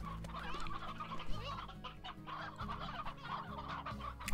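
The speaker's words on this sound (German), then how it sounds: "So, nun geht's an die Hühner." Chickens cluck steadily in the video game Slime Rancher, several birds fowl-like and close, layered over a low humming game background with no talk.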